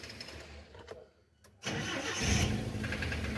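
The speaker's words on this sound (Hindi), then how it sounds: "अभी हम स्टार्ट करके देखते हैं अब ये मिसिंग ख़त्म हुई है कि नहीं हुई" A car engine cranks and starts after its spark plugs were cleaned to cure a misfire, a short quiet pause before it catches and settles into a steady, loud idle close by.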